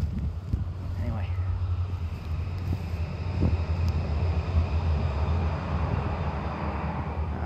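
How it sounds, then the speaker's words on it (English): A small local train on a branch line passes through rural woodland, a steady low rumble rolling by at a distance with wind noise over the microphone, continuous and fairly even for several seconds. "that's my little bit of noise for the day as the train goes by"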